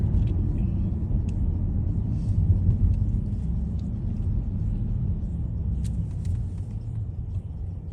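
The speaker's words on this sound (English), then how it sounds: "I think it's really the air conditioner that has that noise." Inside a Toyota car, the air conditioner gives off a steady low rumbling drone, continuous and fairly quiet, with a few faint ticks over it and no talk.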